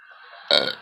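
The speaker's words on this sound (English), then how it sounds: "Wait, you don't burp. Watch this." A single short, raspy burp, close and fairly loud, comes after a moment of quiet.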